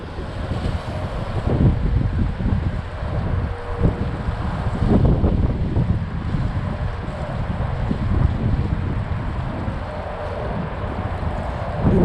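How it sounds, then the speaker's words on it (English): Strong wind roars steadily across a drone's microphone as it flies down the middle of a lake, a dense, rumbling buffet with gusty swells that never lets up. "Wind has picked up some more, as you can probably hear on the microphone"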